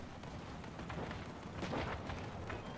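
Dual artillery guns on a large spider-legged build in the vehicle combat game Crossout fire through a dense, rumbling barrage of overlapping booms, fairly faint, with sharper blasts clustering midway.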